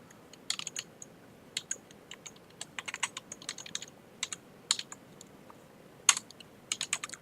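Typing on a computer keyboard while working in a terminal: irregular bursts of close, crisp key clicks with short pauses between runs, no voices.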